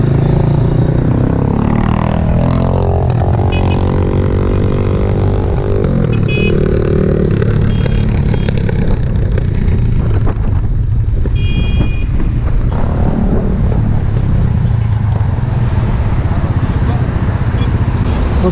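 A 250cc motorcycle engine revs and accelerates loudly nearby amid steady road and wind noise, with people talking over it.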